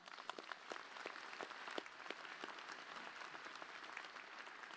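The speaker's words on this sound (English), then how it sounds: "One more round of applause for Dr." Applause rolls through an audience at a university commencement ceremony, with dense, steady clapping and scattered sharper claps, faint and distant throughout.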